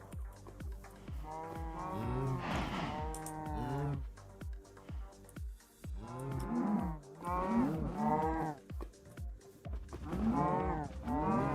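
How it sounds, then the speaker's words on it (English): Cows spawned in the Minecraft video game moo repeatedly in overlapping, drawn-out lowing calls, several in a row with short gaps, loud and near with no talking over them. "We spawn in some cows."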